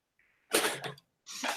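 A single close sneeze: a brief faint intake, a sharp explosive burst, then a second breathy gust after a short pause.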